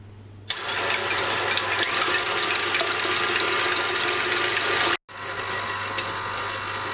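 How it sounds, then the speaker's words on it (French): A stand mixer beats whole eggs for a carrot cake batter, giving a steady loud mechanical whirring drone that starts abruptly, cuts out briefly, then resumes, with no talk. "Et on va laisser faire maintenant le robot."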